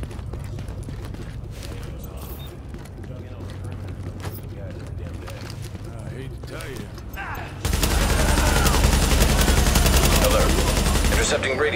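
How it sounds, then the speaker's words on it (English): Rapid gunfire crackles in dense bursts in the video game Tom Clancy's The Division, then the shooting turns much louder and more continuous toward the end. "Reporting gunfire in the station above us"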